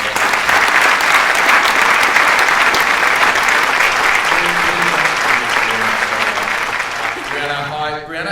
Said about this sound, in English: Give James another round of applause.